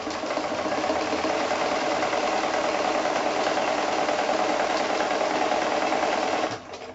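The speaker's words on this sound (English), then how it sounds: "I'm just going to start somewhere, anywhere, with my free motion, and I'm just going to do a little backwards and forwards, and that just locks my thread" Sewing machine running steadily at speed during free-motion quilting, a continuous close mechanical whir and rapid stitching rattle that stops abruptly near the end.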